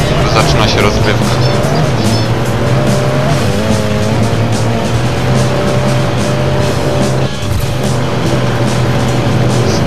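A race car in the video game FUEL roars continuously with a loud, dense engine drone and tire noise on a track, with a voice talking over it throughout.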